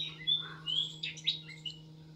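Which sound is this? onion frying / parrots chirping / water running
parrots chirping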